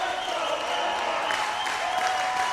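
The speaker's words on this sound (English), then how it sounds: "California crowd is getting fired up." Crowd cheering and applauding at a high school basketball final, a steady, dense wash of clapping and voices held at an even level throughout.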